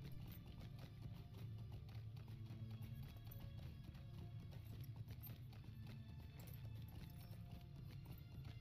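Horse hooves clip-clop steadily and continuously in Lord of the Rings Online, a rapid even rhythm of in-game riding with a possible faint whinny, heard alone without talk.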